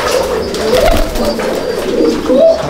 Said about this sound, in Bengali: আর এগুলো সব শার্টিং পায়রা।